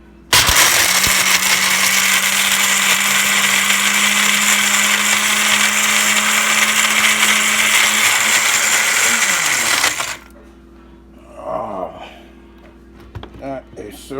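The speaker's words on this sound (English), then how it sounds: "I'm going to blend it. Then I'm going to crush it first." A blender on its ice crush setting roars loudly and steadily for about ten seconds, grinding bones hard for bone meal, then cuts off, leaving quiet rustling and faint knocks.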